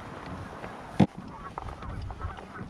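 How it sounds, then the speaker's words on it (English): A single loud honk stands out, followed by fainter scattered honks from geese further off over a quiet outdoor background at Deer Creek Reservoir while trout fishing. "Geese are going nuts out here."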